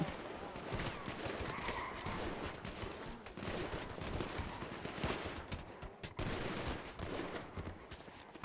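Gunfire during a GTA Summer City roleplay gang fight at a military base crackles as repeated volleys of overlapping shots at steady loudness, with excited voices talking over it.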